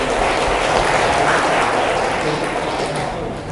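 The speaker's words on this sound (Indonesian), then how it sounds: "Mari kita beri aplaus untuk beliau." Audience applause at a hajj pilgrimage guidance session in Yogyakarta, a steady, dense wash of clapping throughout that fades slightly near the end.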